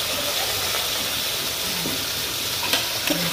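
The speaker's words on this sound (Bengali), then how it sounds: "লাল লাল করে পেঁয়াজগুলোকে ভেজে নিচ্ছি" Chopped onions frying in oil in a pan for chicken pulao, a steady broadband sizzle and hiss with a few soft stirring knocks near the end, no talking.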